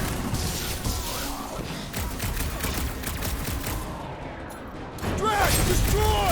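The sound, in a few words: gunfire from Rocket in Guardians of the Galaxy video game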